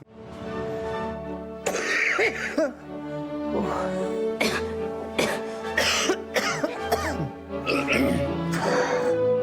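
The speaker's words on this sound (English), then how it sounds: "how long's she been coughing?" A person coughs repeatedly in harsh, wet bursts, with some throat clearing between the coughs. Voices are heard in the background.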